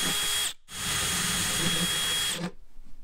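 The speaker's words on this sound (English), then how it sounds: "So I didn't upsize the drill bit." A power drill whines steadily while boring a hole for a nutsert in a Jeep's rear body panel, a loud, close, continuous run that stops briefly and then cuts off near the end, with no talking.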